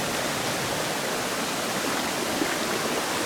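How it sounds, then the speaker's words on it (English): A swollen creek in Strickland State Forest rushes loudly and steadily, a dense broadband roar of flowing water with no other sounds. "It's actually creek's a bit swollen here, not too bad."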